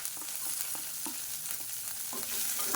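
Curry leaves and finely chopped green chillies fry quietly in oil, with a faint steady crackle and a few light stirring scrapes, and no voices.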